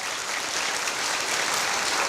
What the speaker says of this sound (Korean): 내 말에 동의하면 박수나 한번 쳐봐요.